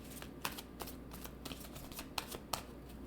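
Tarot cards being shuffled in a steady riffling flutter, with a few sharper snaps standing out near the end, close and fairly quiet, with no talking.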